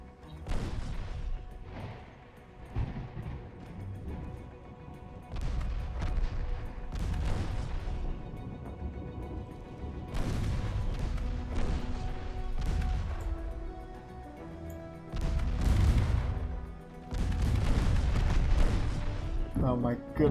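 Naval gunfire from warships in Ultimate Admiral Dreadnoughts: repeated heavy booming salvos rolling out at irregular intervals over a steady battle rumble, with someone talking between and over the shots.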